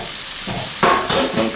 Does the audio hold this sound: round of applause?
no